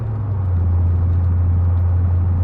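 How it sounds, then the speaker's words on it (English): Exhaust drone from a C4 Corvette at speed on a test drive after a transmission rebuild. It is a loud, steady, low-pitched hum with road rumble underneath, unbroken for the whole stretch. "Exhaust has a little bit of a drone."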